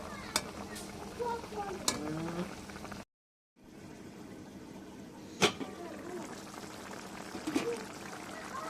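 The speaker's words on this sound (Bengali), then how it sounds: "এই পর্যায়ে মাংসটা সিদ্ধ হচ্ছে" Goat meat boiling in a pot for khashir mangso, a steady bubbling, pouring wash with sharp clinks and a brief gap of silence midway, close by.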